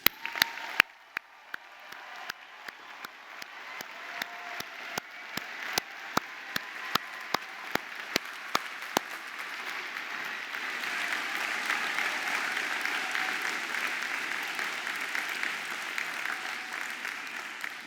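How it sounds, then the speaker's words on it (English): A graduation audience in an auditorium gives a sustained round of applause, with sharp individual claps near the microphone early on, then a steady, even wash of many hands clapping. "So can I call on everyone in the auditorium to give you one more round of applause?"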